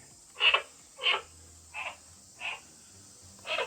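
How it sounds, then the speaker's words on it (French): Frogs hidden among caves in a jungle by Khao Sok Lake, Thailand, call in five separate raspy bursts roughly every half second to second, moderately near over a quiet background hum. "et j'entends des grenouilles."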